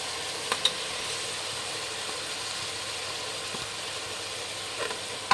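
Fenugreek leaves fry in a pan with tomato for rice bath, giving a steady, close sizzle throughout with a few faint stirring clinks.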